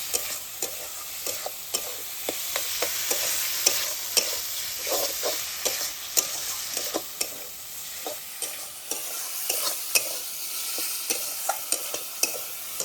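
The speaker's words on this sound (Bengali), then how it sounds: "আবারও 2-3 মিনিট মতন বেশ ভালোভাবে মশলার সঙ্গে টমেটোটা কষিয়ে নিতে হবে।" Chopped tomatoes sizzle steadily in a pan as they are cooked down with spices for a vegetarian potato, pointed gourd and paneer curry. A spatula scrapes and taps the pan again and again, close and with no voices.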